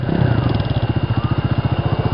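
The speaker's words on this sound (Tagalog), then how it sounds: "Bitawan mo yung preno para umandar yung makina." A motorcycle engine idles with a steady, rapid putter close by, running continuously and fairly loud.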